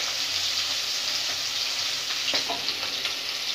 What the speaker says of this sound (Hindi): मैं अभी फिश को फ्राई कर लूँगी